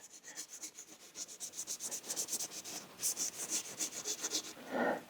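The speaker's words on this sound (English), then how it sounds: "I'm going to get down inside there with a scrub pad." A scrub pad rubs back and forth inside a bicycle dropper seatpost tube in quick, regular strokes, a faint, close, hissing scrape that speeds up toward the end.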